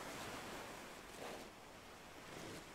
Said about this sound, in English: Listen to sound of the waves.